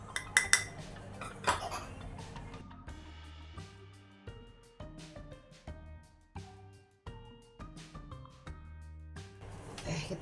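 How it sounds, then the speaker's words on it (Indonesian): A utensil stirs caramel-milk brownie batter of cocoa powder and baking powder in a bowl, giving a run of light clinks and scrapes. Soft music plays underneath. "Kita aduk dulu sebentar"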